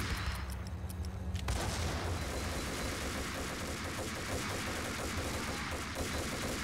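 A grenade launcher in the video game Max Payne fires with a heavy thump, followed by a dense, sustained rumble of explosion and debris that fills the whole stretch at a steady level.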